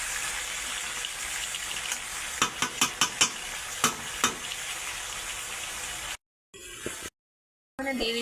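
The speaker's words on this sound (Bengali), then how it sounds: "সেটা সুন্দর করে মিক্সড করে নিচ্ছে।" Mutton pieces being stirred and mixed in a hot kadai, with a steady sizzle of frying punctuated by several sharp scraping clacks of a spoon against the pan, then brief cuts to silence.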